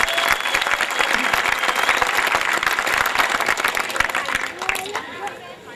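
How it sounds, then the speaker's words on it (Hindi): An audience at a live comedy show claps loudly in honour of martyrs, a dense sustained burst of applause that tapers off in the final second. "मैं चाहूँगा कि एक बार उन शहीदों के सम्मान में जोरदार तालियां बजाएं"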